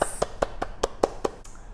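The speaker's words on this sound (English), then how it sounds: "Big claps!" Children clap their hands along to a nursery rhyme session, eight sharp claps in a steady rhythm, close and fairly loud.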